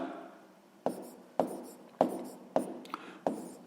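A pen writes a math solution for a sixth-grade exercise, heard up close as soft scratching with about six sharp taps and strokes spaced roughly half a second apart.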